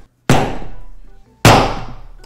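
A hammer strikes a kids' craft project twice, about a second apart. Each blow is loud and close, with a sharp crack followed by a ringing decay.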